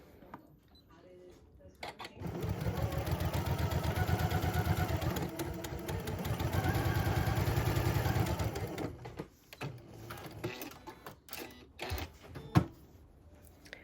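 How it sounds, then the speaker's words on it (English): A sewing machine stitches a quarter-inch seam along fabric triangles, running steadily for several seconds in a loud mechanical whir, then slowing into scattered clicks and handling sounds. "I'm just going to sew a 1/4 inch seam allowance on this side of my triangles."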